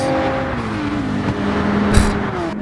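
A Toyota race car in Gran Turismo 7 on the Dragon Trail circuit drives past with a loud, close engine whine that rises and shifts in pitch through gear changes, with a brief thump near the end.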